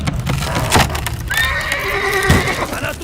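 Several horses whinny loudly in a dramatic film scene, a long rising neigh with layered harmonics over rumbling background noise and hoof impacts, no talk.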